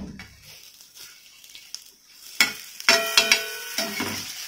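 A flipped dosa on an iron griddle: a soft sizzle, then several sharp scraping clatters of a spatula against the hot iron, close and fairly quiet.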